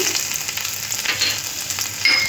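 Chopped ginger sizzles in hot white oil in a pan, a loud, dense, continuous crackle close by with a brief spike near the end.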